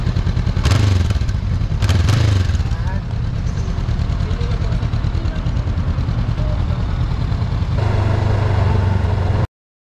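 A Honda CBR500R with a 471cc liquid-cooled parallel-twin engine is blipped loudly at close range, two sharp revs near the start settling into a throbbing idle, then another rise before cutting off, while people talk over it.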